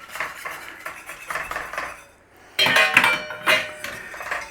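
A utensil stirs a cream sauce with garlic powder in a pan, metal clinking and scraping in uneven bursts, with a sharper, louder stretch of clattering near the end.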